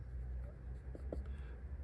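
A pen or marker scratches quietly across paper in short strokes during a diagram of radiator fan wiring, faint and close over a low background hum.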